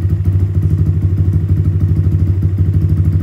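A motorcycle engine held near 3,000 RPM for a closed-throttle backfire, giving a loud, steady, throbbing drone with rapid rhythmic clatter and occasional thumps throughout.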